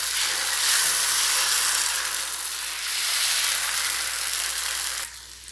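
Tomato dosa batter spreads across a hot, oiled dosa pan and sizzles loudly in a bright, steady hiss that swells and eases for about five seconds before suddenly dropping away.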